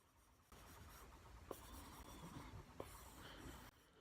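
An Apple Pencil whose tip is wrapped in masking tape scratches across a soft screen protector on a tablet, making a faint, papery rasp in continuous strokes with a couple of light taps.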